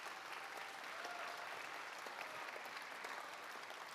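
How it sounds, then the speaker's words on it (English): A live audience applauds poets at a book festival poetry reading, a steady even clapping that fills the room for several seconds with no pause. "let's give a big round of applause for all 10 poets."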